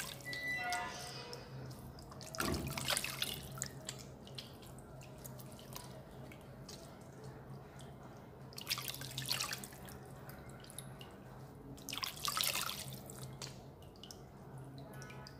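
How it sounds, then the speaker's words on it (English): Hands washing in a bowl of warm water, three separate bursts of splashing and dripping spaced across a quiet background, soft and close. "The next thing I'm going to do is to wash my hands inside this bowl of warm water."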